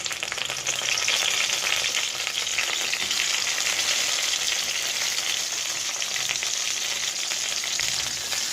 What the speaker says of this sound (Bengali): তেলটা গরম হয়ে গেছে। এবার এক এক করে আমি পাতুরিটা দিয়ে দিচ্ছি।